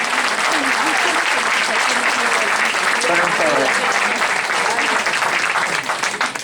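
A crowd applauds Malvinas war veterans at a political gathering, steady and loud sustained clapping throughout, with a voice speaking briefly beneath it.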